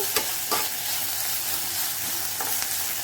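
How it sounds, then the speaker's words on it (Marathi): Ginger garlic paste and spices sizzle in a hot pan for a soy tikka biryani, with a steady bright frying hiss and a few scraping stirs. "अद्रक लसूण पेस्ट घेतली आहे, मिक्स करून घ्यायची"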